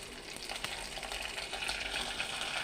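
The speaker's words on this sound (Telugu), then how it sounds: "పచ్చిమిర్చి అయిన తర్వాత ఇదిగోండి దీంట్లో మునగాకు వేపాలండి." Drumstick leaves and green chillies frying in a pan give off a soft, steady sizzle with faint stirring scrapes, quiet and continuous throughout with no voices.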